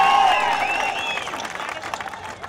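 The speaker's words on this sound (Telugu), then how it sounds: "అందరూ కూడా చప్పట్లు కొట్టాలని చెప్పి" Audience applauding at a Telugu political meeting, a dense wash of clapping that starts loud and gradually thins and fades over a couple of seconds, with no talk over it.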